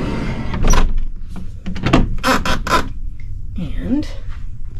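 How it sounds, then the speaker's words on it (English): Sliding door of a Grand Princess mini-suite cabin rolling shut with a series of rattling, thudding bursts, close and fairly loud, with a brief voice near the end. "Let's close this door."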